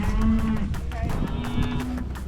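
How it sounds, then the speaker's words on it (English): Cattle mooing in a sorting pen with calves, including Mashona cross calves: a low, sustained moo rises and falls over the full clip, close and loud, backed by shuffling and livestock noise. "this cow's coming out"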